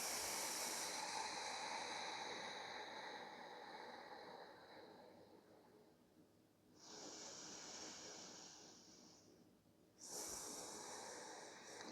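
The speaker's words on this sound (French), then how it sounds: "inspirez, remplissez vos poumons d'air. Et expirez par le nez" Slow breaths during a guided breathing exercise, with long airy nasal exhalations in clear separate waves and quiet gaps between them, close and fairly soft, with no talking.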